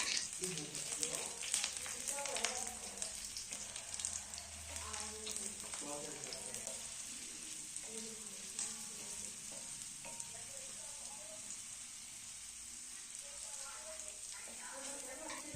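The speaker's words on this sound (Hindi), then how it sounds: "कुछ कलियां यहाँ लहसुन की ली हैं और लहसुन को थोड़ा सुनहरा होने तक भून लेते हैं" Garlic cloves sizzle and crackle in mustard oil on a flat griddle, a steady frying hiss with occasional stirring scrapes, mid-level and close throughout.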